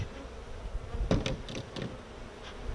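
Bees hum steadily around an opened beehive fitted with a queen excluder, a close continuous drone with individual insects buzzing past, with no talk.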